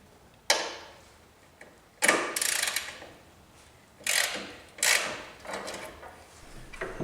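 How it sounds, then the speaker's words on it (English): A 4Runner's front strut bracket bolts are worked loose with a ratchet, giving a few separate bursts of close metallic ratcheting and clicking, separated by short pauses, with no speech. "Remove these bracket bolts from near each of the front struts as well."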